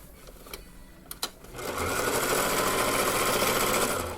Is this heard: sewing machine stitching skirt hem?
yes